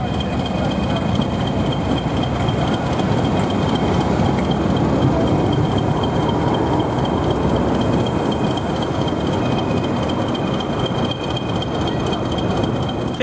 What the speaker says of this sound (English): we see Class 31, 438 heading in with a train bound for Ongar into Northweld Platform 2